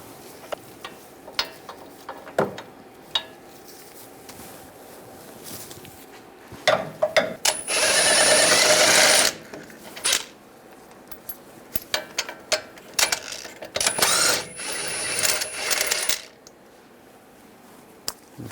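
A power tool with a 21mm socket removes the caliper bracket bolts on a 2011-2018 Ram 1500, giving two loud whirring bursts amid scattered metallic clinks and tool handling.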